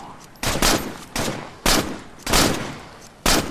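Bursts of military gunfire in the State of Decay zombie survival game, several loud volleys in uneven rhythm with brief gaps of background noise between them.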